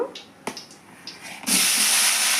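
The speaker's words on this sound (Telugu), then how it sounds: "ఇంకొద్దిగా అయితే ఆయిల్ వేస్తున్నాను ఉంది కదా ఆయిల్ నేను తాలింపు పెట్టానండి" Tempering spices hit hot oil in a pan while making tomato roti pachadi, a few soft clicks and taps giving way to a sudden loud, steady sizzling hiss.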